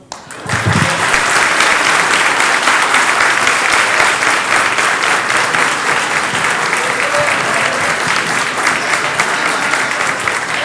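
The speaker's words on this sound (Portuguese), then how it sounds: "Eu gostaria de pedir uma salva de palmas para o ministro Rogério Sicchetti, foi aniversário dele ontem." Audience at a legal forum in Lisbon breaks into loud, dense applause for a minister's birthday, a steady wash of many hands clapping close and continuous for about ten seconds.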